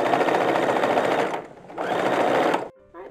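A sewing machine stitches the sleeve hem of a doll's garment for an antique porcelain doll, running in two loud, steady whirring bursts with a short pause between, then stopping.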